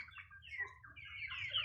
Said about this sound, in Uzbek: Hammasi hovlida maza qilib yurgan jo'jalar.